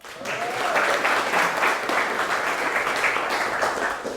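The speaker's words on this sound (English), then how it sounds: "Give him a round of applause." Seminar audience gives a round of applause, a full steady clapping crowd close and sustained for about four seconds, with a brief voice at the start.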